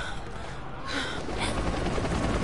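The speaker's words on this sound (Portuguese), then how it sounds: "E olha o helicóptero." A helicopter in the video game Rise of the Tomb Raider thrums with a low rotor chop, growing louder partway through against a dense, noisy game mix during a battle scene.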